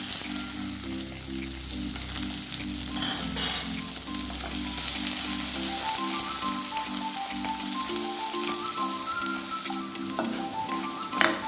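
Ginger, green chili and onion frying in hot oil for a sabudana upma, a steady close sizzle with crackles and stirring scrapes throughout, no voices.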